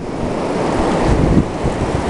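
Ocean waves roll onto the beach where the Columbia River meets the sea, a steady loud wash of surf mixed with wind buffeting the microphone. No one speaks.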